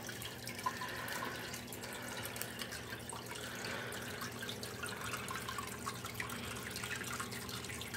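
Water in a home fish tank with a bristlenose pleco bubbles and trickles steadily, a soft continuous wash with faint drips, no talk.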